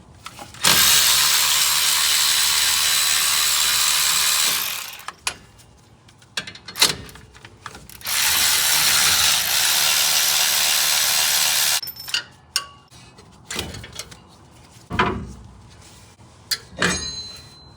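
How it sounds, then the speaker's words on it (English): Two long, loud bursts of a tool spinning out the 10mm caliper bolts on a Nissan Titan's rear axle, separated and followed by clanks and clicks of metal parts being handled nearby. "We're gonna be removing 2 bolts off of the backside of the caliper using a 10mm socket."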